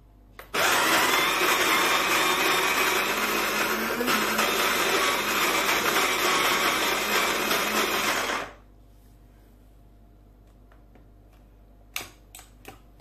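A Kitfort KT-717 electric coffee grinder set to its finest grind for an espresso machine grinds coffee beans in one loud, close, continuous burst of about eight seconds, then stops, followed by a few faint clicks and handling sounds.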